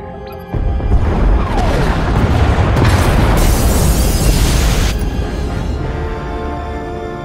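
A massive explosion tears through the escape pod bays in a Star Wars: The Old Republic cutscene, a loud sudden blast at once swelling into a long sustained roar of rumbling debris and fire that slowly fades.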